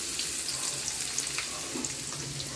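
Sliced onions frying in a pan as the base for chicken liver and gizzard adobo, a steady, even sizzle with faint crackles, with no talking.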